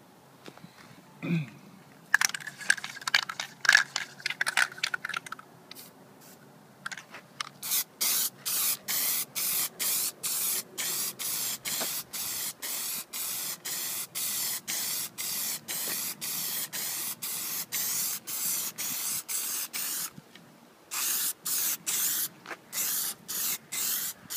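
A spray can lays a third coat of Plasti Dip on car window trim in a long run of quick, rhythmic bursts, loud and close, with short pauses between passes and some rustling at the start.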